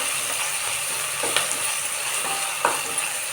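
Chopped tomato frying in hot oil as part of a tempering for a mutton curry, a steady bright sizzle with a few sharp spatters and light utensil clicks.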